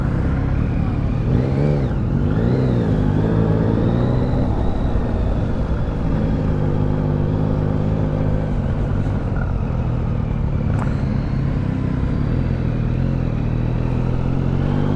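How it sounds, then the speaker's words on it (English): A 2023 Yamaha Tracer 9 GT motorcycle being ridden, its engine a loud, steady close drone with rising and falling revs, mixed with constant wind rush throughout. "so I'm riding this bike right now."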